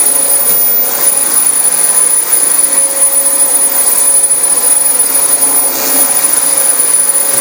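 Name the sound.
vacuum cleaner running on carpet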